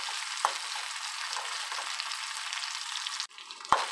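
Tempering spices crackle and sizzle steadily in hot oil for bottle gourd sambar, a bright continuous frying hiss with a couple of sharp pops and a clink near the end.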